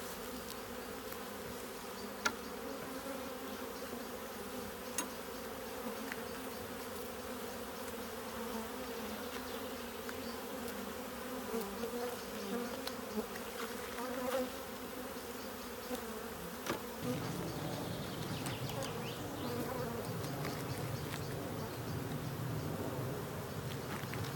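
A steady, dense hum of many honey bees buzzing close by at a hive, continuous for the whole stretch with no voices.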